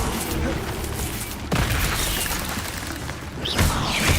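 Spells firing in the video game Hogwarts Legacy make a dense wash of crackling bursts and booms, with a sharp crash partway through and another surge near the end, loud and continuous.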